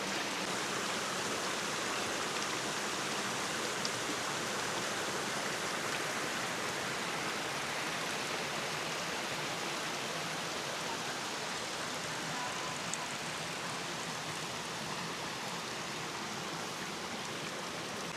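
A mountain stream flows beneath a small wooden footbridge near Alájar, a steady broadband rush of moving water throughout, moderately distant and unbroken by voices.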